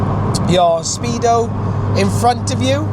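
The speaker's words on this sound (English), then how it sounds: "the car is driving nice and smoothly" A Mini Cooper S on the move, a steady low engine and road drone running beneath someone talking continuously over it.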